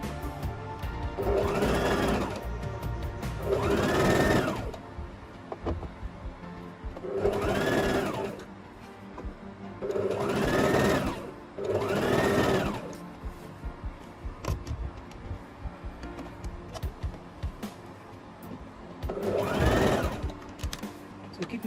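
A sewing machine stitches a seam on a half circle flare maxi skirt, running in about seven separate bursts of a few seconds each, with quieter gaps between, close up.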